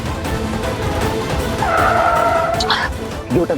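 A car skids to a stop with a sharp tire squeal lasting about a second, loud over the engine and a busy, noisy background.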